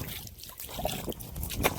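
Water is poured and splashed outdoors for washing feet at a home gate, with a steady trickle and a few brief, nearby splashes over background noise.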